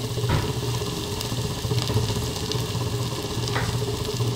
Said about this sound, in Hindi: मैं हल्का सा इसे फ्राई करूँगी बटर में।